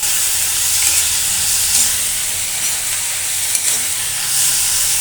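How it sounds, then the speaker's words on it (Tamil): Steady sizzling and hissing of tomatoes and onions sautéing in a pan, loud and continuous with occasional stirring scrapes, no talking. "தக்காளி ஆட் பண்ணிவிட்டு அதையும் நல்லா வதக்கி எடுத்துக்கலாங்க."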